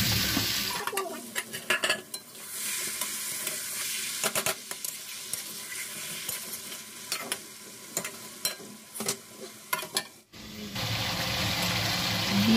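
Chopped capsicum being stir-fried in a pan, with a constant sizzle under repeated scraping and knocking of a spatula against the pan. The sizzle swells louder near the end.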